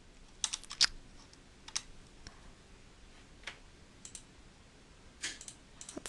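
Typing on a computer keyboard: scattered bursts of light key clicks with pauses between, fairly faint against quiet room background.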